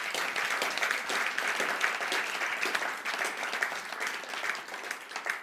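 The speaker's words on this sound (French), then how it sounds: "Clap for him." A church congregation applauds the pastor, dense sustained clapping from a crowd in a hall, steady and lively throughout with no talking over it.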